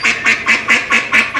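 A duck quacks six times in a quick, even rhythm, loud and close, with no talk over it.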